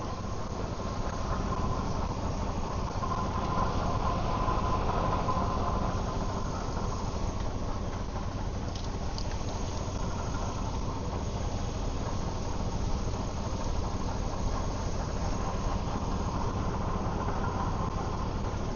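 A 2003 Dodge Ram truck engine runs steadily and close by after its throttle body was cleaned, a continuous low idling rumble with no break across the whole stretch.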